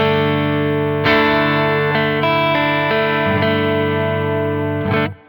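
Electric guitar played through a Mesa Rectifier 2x12 cabinet with V30 speakers, modeled on a Quad Cortex: a few loud sustained chords ring out one after another, with no voice over them.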